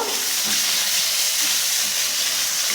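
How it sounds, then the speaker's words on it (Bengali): Chopped tomato hitting a hot pan while cooking Bengali fish curry, a loud, steady hiss of sizzling that holds evenly for a few seconds with no talk. "এবারে টমেটো কুচিটা দিয়ে দিলাম"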